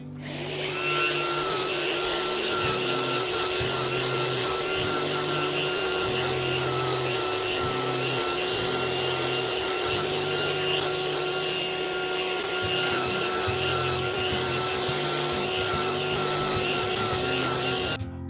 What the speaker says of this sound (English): I'm just gonna use my Orbital sander, and then I'm using a 120 grit.